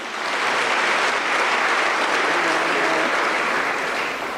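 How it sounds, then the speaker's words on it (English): An audience at a public conversation event with former president Thabo Mbeki gives the panelists a warm, steady round of applause, a dense wash of clapping that swells and fades over a few seconds. "A warm round of applause for our panelists"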